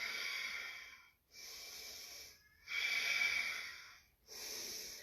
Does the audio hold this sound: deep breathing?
yes